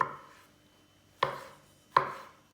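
Three crisp knife chops through a tomato on a cutting board, about a second apart, close and fairly quiet with no talking.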